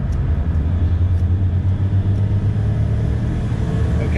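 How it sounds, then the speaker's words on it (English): Powerboat engines of close to 1,000 horsepower with turbos spinning up, producing a loud, steady low rumble with a pulsing throb close by. "Okay, turbos are spinning up."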